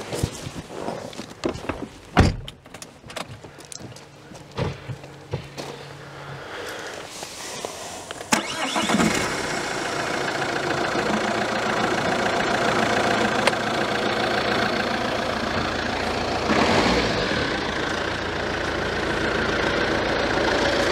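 A 2011 Opel Astra J with a 2.0 CDTI diesel engine and a replaced O-ring, heard from inside the cabin, starts after a few quiet shuffling steps, then settles into a steady, loud, rumbling idle that continues to the end, with no talking.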